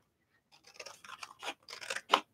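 Scissors snip through a thin handmade texture plate in a series of short crisp cuts, starting after a brief silence and ending on one sharper, louder snip.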